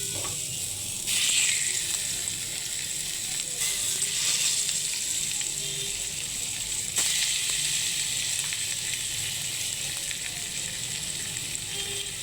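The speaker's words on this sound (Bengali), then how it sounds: "আর এখানে এখন মাছ ভাজবো।" Fish frying in a pan at a home stove, a steady close sizzle and crackle with brief louder spits, no talking.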